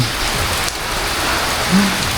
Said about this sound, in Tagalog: bali ako po inabutan ng ulan